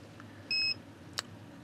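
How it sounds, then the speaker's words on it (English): A Licitti 2000W New Gen battery box inverter gives a single short, clear electronic beep when powered on, followed by a faint click over low room hiss. "the beep is the confirmation it's up and running"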